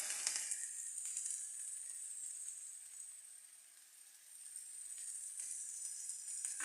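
Spiced potatoes sizzle steadily in a frying pan, a soft continuous hiss that dips briefly and swells again, with no voices over it.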